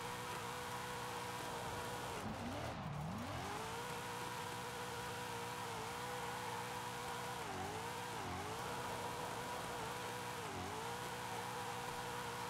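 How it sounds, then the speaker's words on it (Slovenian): BMW M2 drift car with its engine droning steadily and dipping in pitch several times as the throttle lifts and picks up again, heard faintly from a distance with no talk. "s tem avtom je zelo fajn driftat"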